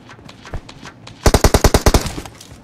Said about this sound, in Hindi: उसकी रिलोड की आवाज कैसे आ रही थी? टुपुक टुपुक टुपुक